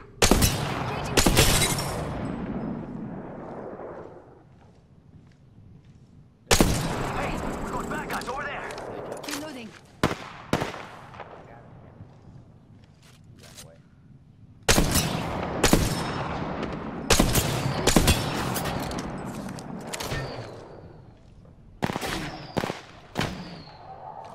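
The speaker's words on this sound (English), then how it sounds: "They're shooting at me." Apex Legends firefight with sharp, loud gunshots arriving in several clusters of rapid cracks, each burst trailing off into echoing decay, with a player talking in between.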